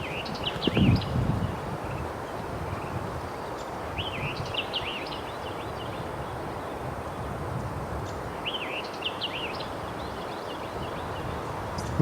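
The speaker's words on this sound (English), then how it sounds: "So Here's the white-eyed vireo that I showed you a moment ago." A white-eyed vireo sings short, quick phrases recorded in windy conditions, faint and distant, repeating roughly every four seconds over a steady bed of wind noise.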